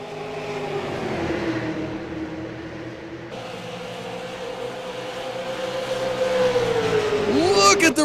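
Race cars in a SARA super series event at Phoenix Raceway roar down the front stretch in a continuous, loud engine drone. A car sweeps past close by near the end, with a commentator talking over the racing.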